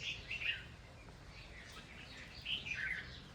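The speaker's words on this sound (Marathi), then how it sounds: "फक्त त्या पक्ष्यांचा आवाज आपल्याला इथे येतोय" Faint birds chirp in short, scattered bursts somewhere in the distance around an old village-centre Vishnu temple, over an otherwise quiet and still setting.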